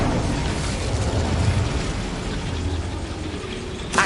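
Incendio, a fire spell, is cast in Hogwarts Legacy, giving a loud, rumbling fiery whoosh that swells and then tails off, ending with a sharp crackle.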